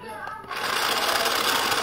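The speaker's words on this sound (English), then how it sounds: "it is the mixer, and it really does mix" A small toy kitchen mixer from an appliance playset whirs steadily for about two seconds, a continuous buzzing motor hum that starts up partway in and stays close and constant.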